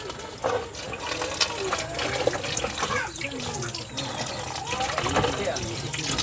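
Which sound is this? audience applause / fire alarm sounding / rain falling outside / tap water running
tap water running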